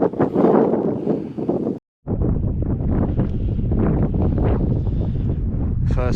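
Strong wind buffets the microphone high on Plynlimon (Pumlumon Fawr), a mountain reached by bicycle: a steady, close, roaring gust noise that breaks off briefly near the two-second mark and then returns just as loud.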